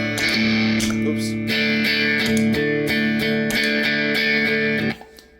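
An electric guitar runs through a JHS Super Bolt pedal for a little distortion, ringing sustained chords struck in several strums before cutting off abruptly near the end.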